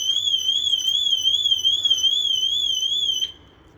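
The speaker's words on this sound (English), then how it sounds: "alarm system that's fitted to it." An alarm system fitted to a 2017 Autosleeper Warwick XL motorhome wails loudly and steadily with a warbling tone, then cuts off abruptly near the end.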